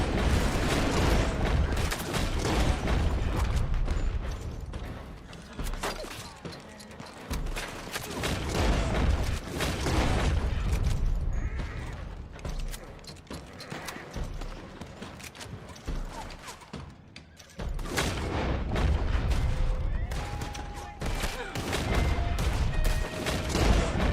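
Shotgun blasts and gunfire in Red Dead Online, loud and repeated in bursts over a continuous, dense game soundscape with hoofbeats and mechanical clatter.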